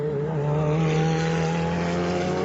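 Ferrari Challenge race car number 24 at Sebring, its engine holding a loud, steady high-revving drone with a strong tonal hum, sustained close by throughout with no talk.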